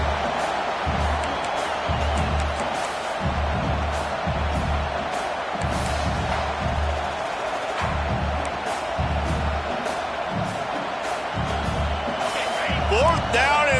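A football stadium crowd sends up a constant broad roar on a fourth-down defensive stand, with a commentator talking steadily over the noise.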